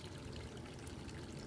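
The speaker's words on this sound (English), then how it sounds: "This part here is our fountain. You can see the little froggies are happy watching the water." A garden fountain trickles softly and steadily for a moment, a faint continuous wash of running water with no voices.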